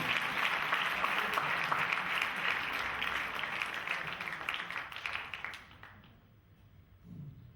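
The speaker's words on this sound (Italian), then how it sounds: "Un applauso, grazie." A theatre audience at an Italian stage play applauds in a dense, even round that holds for several seconds, then quickly dies away into near quiet with a faint murmur at the end.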